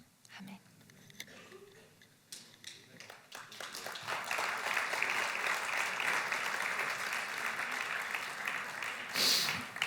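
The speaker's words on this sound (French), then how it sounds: "Merci pour vos applaudissements et votre amour que je reçois pleinement." Church congregation applauding during a bilingual service, sparse claps and murmuring at first, then swelling into steady, moderately loud clapping that continues to the end, with faint voices underneath.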